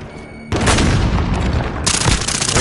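A grenade blows up in a first-person military shooter with a sudden loud boom, followed by roughly two seconds of sustained rumbling blast noise and a second burst near the end.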